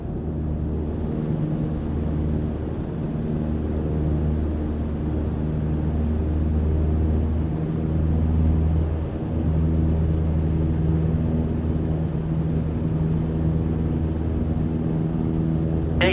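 A light aircraft engine in a flight simulator game holds a continuous, loud, even drone as it accelerates toward 100 knots, with no voices.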